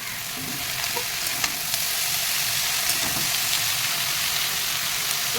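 Greens drop into a hot pan with potatoes and fry in a steady, bright sizzle and hiss that holds at moderate loudness, with a few faint stirring clicks throughout.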